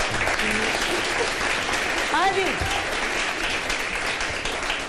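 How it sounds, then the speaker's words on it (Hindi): Studio audience applause on a Pakistani TV morning show, a steady broadband clatter of clapping running through the whole stretch, with a voice speaking briefly over it. "बजा दो ताली, बजा दो, ना डरो।"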